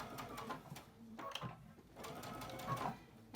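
A sewing machine stitching a fabric face mask with elastic, quiet bursts of fast rhythmic needle chatter in short runs with pauses between, close and faint.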